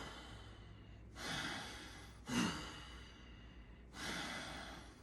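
Slow, deep breaths in a guided relaxation session: three soft, airy exhales and inhales spaced about a second and a half apart, close but quiet, over a faint steady background hum.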